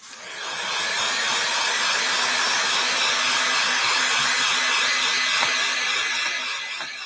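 A handheld dryer blows a steady, close whooshing hiss as it dries a craft project, ramping up and running without pause, with no talking.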